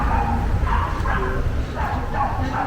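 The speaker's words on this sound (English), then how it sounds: "Dogs all barking." Several dogs barking and yipping in an outdoor seaside town setting, a busy cluster of overlapping barks at moderate distance mixed with crowd voices.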